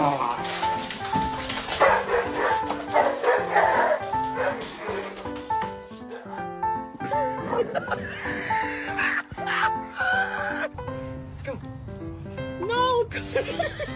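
A puppy barks and yips in short bursts, mixed under loud music and voices.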